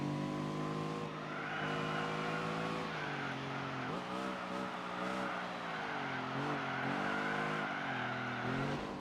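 TVR sports car engine in Gran Turismo 4, a steady droning tone that rises and dips with throttle through a complex corner sequence, loud and continuous with no talking.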